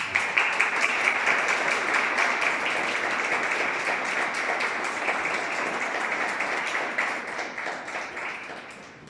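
An audience applauds throughout at a book presentation on unusual cemeteries in Elche, a dense steady wash of many hands clapping that stays fairly even, then thins slightly toward the end.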